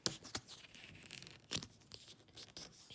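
A transparent sticker is picked at and pulled from its backing, giving faint, close scratches and brief peeling crackles in a few quick bursts, with no speech.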